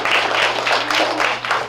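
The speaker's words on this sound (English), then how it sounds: "so you can give them a round of applause" Applause at a school reading competition, with an audience clapping in a brisk rhythm that swells in pulses and carries a steady low hum underneath.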